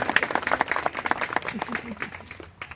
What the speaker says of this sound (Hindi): हृदय से बहुत एक बार जोरदार तालियां